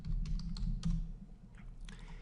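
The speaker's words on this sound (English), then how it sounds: "I'm going to type the word Pearson" Typing on a computer keyboard, a quick run of close, light key clicks with a short pause near the end before a few more taps.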